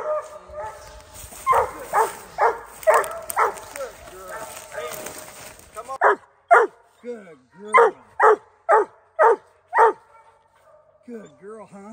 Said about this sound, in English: So Randy's pup and Murray's dog split treed in here